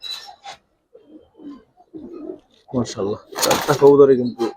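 Male Giribaz khaki pigeons coo in soft, low, rolling bursts, close by, growing fuller toward the end, with a few knocks and someone talking around them.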